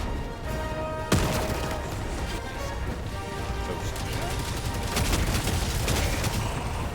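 In-game combat, with a sharp grenade-like blast followed by scattered gunfire and crashing impacts over continuous loud game noise, and voices heard faintly in the mix.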